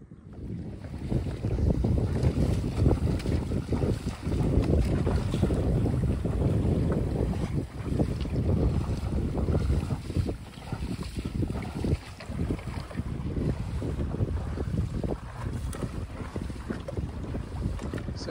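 A small sailboat glides slightly downwind on Chesapeake Bay in light wind. Steady wind buffeting and rushing water fill the whole stretch, with no speech.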